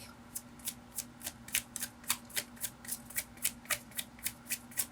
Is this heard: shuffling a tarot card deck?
yes